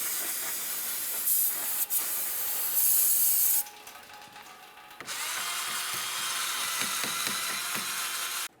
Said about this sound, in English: To clean this, I'm going to use some parts cleaner and a small wire brush or even a bore brush